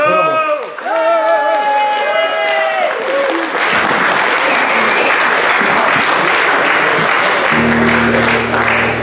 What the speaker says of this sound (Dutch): Geniet van het overdovende applaus achteraf, Tim, want dat is speciaal voor jou.